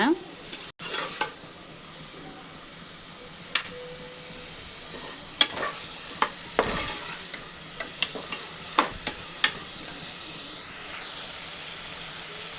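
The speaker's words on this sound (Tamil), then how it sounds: "நல்லா வதக்குங்க." Sliced onions sauté in a pan with a pinch of salt for homemade pasta, a steady close sizzle broken by repeated sharp clicks and scrapes of stirring.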